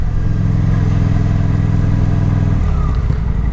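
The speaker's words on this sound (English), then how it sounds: "Thought I'd show you guys what the bike sounds like." A Kawasaki Vulcan motorcycle engine idles loud and close, a continuous low rumbling throb with a slight shift in pitch near the end.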